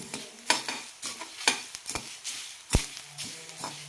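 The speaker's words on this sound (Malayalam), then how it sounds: "മല്ലിയെല്ലാം പൊട്ടാൻ തുടങ്ങിയിട്ടുണ്ട്" Coriander seeds dry roasting in a pan crackle and pop with sharp irregular snaps, alongside scraping and stirring, close and moderately loud with no voices.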